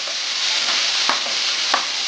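Oxtail sizzles as it browns in a pot, a steady close-up frying hiss with a couple of faint clinks from stirring, no talk.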